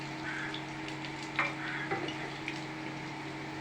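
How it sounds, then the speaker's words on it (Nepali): Onions deep-fry in hot oil until golden brown, giving a soft, steady sizzle with a few light clinks and stirring scrapes, quiet and close with no voices. "पहिला प्याजलाई एकदम रातो गरेर भुटेर निकाल्ने"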